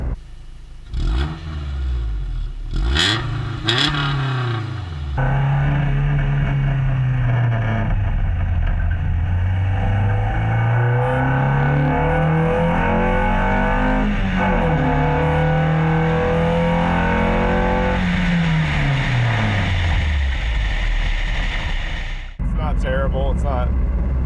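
Honda Integra with a B18B engine and an Acura RSX Type-S muffler revving up and down with a deep, throaty exhaust note, sustained and loud, rising and falling in pitch over several seconds.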